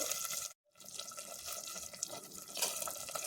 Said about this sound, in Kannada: ಒಂದು ಲೋಟ ನೀರು ಹಾಕ್ಕೊಳ್ತಾ ಇದ್ದೀನಿ